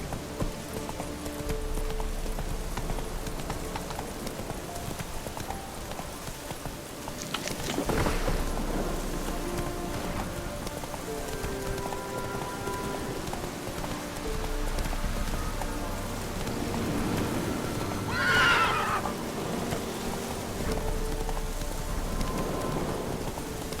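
Horse hooves clip-clopping at a gallop through steady rain in The Witcher 3 video game, a continuous wash of rainfall underneath, with occasional louder splashy hoof bursts and a distant thundery rumble.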